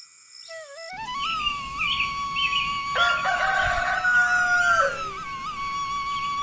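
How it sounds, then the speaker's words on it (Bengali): A rooster crows at dawn in a rural village, one long crow clear and close. Softer crowing from other fowl overlaps it against a quiet morning background with no talk. "মোরগের ডাকে ঘুম ভাঙলো"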